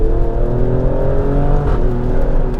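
An Alfa Romeo Stelvio Quadrifoglio, a 500 brake horsepower super SUV, accelerates under load with a steady, loud, close engine drone and rich low harmonics. No one speaks.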